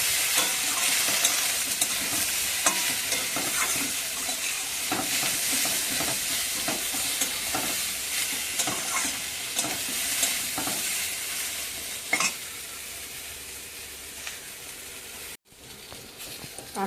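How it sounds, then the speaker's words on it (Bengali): Plantain and potato pieces sauté in a pan with salt and turmeric, giving a continuous close sizzle broken by repeated scraping stirs of a spatula, with no talk. "লবণ দিলাম, হলুদ দিয়ে কষিয়ে নেব।"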